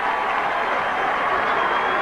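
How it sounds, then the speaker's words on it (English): A noisy crowd at a 1989 high school football game between Massillon and Walsh Jesuit roars steadily in a dense, unbroken wash of cheering and applause. "feeding off the crowd support, and it is as noisy here as I've heard it this year"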